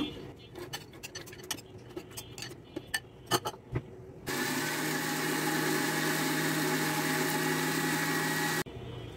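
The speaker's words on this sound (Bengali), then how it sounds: "এখন আমি বুটের ডালটা ব্লেন্ড করে নেব।" Electric blender pulverizing chana dal (Bengal gram lentils), a steady loud motor whine running about four seconds up close, preceded by tapping and clattering handling sounds.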